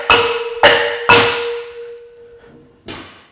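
A hammer taps the valves of a rebuilt cylinder head to seat them: three sharp metallic hits in quick succession with ringing decay, then a fourth lighter tap after a pause, close and clear.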